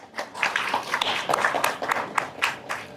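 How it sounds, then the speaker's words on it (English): Audience applauding at the inauguration of a national symposium on electrochemical science and technology, a lively burst of many people clapping with sharp individual claps over a dense, fairly close wash. "Please give a big round of applause."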